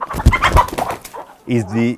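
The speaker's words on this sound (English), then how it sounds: "This is the rainbow bird. It's a speckled bird which is white and black." A speckled black-and-white rainbow chicken on a Zimbabwean community farm gives a short, close clucking call, heard right after someone speaks.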